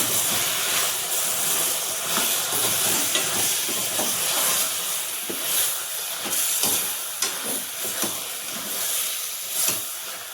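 Chicken pulao masala of coriander powder, chicken masala, garam masala and biryani powder being stirred in a pot, a steady hissing sizzle with scraping strokes throughout, close and fairly loud, no voices.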